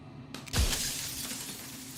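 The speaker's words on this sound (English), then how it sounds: "A crack slides down in the center of the mirror, splitting the image in the glass in two." Mirror glass in Slay the Princess cracks with one sharp shattering burst that trails off into a faint ringing hiss, close and alone with no voices.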